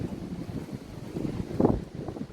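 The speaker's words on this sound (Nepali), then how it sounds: "हावा मस्त" Wind blows outdoors in Abu Dhabi, a steady low buffeting rumble against the microphone that swells into a stronger gust midway through.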